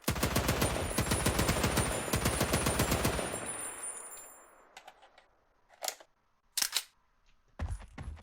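Automatic gunfire from a weapon in a prototype shooter game: about three seconds of loud, evenly spaced rapid shots, then a fading echo and a few separate mechanical clicks and thuds.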